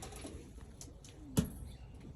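A single pigeon coo rises briefly, close and soft, against a quiet background hum in a loft of young pigeons, with faint rustling around it.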